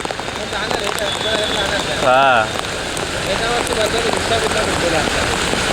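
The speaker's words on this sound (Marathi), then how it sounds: "एवढा कंटिन्यू पाऊस" Extreme heavy rain falls steadily near a bridge at Nalasopara station in Mumbai, a loud continuous hiss and patter, with a voice speaking briefly partway through.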